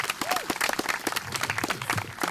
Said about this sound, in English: let's give another round of applause to you guys.